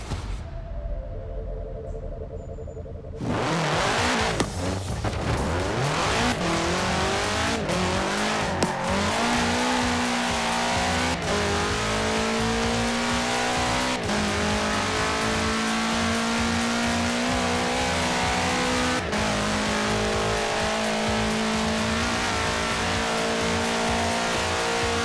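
A 1966 Volkswagen Beetle fitted with a 2.5-liter flat-four turbo engine, driven in the racing game Forza Horizon 4, roars up from a quiet idle into a loud, sustained high-revving drone with rising gear pulls and brief shifts, steady and close throughout.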